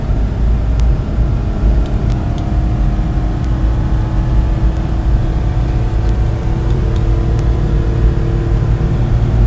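Mitsubishi 4x4 Japanese mini truck pulling up a hill in fourth gear, its engine droning loud and even throughout, with a constant low rumble and no speech.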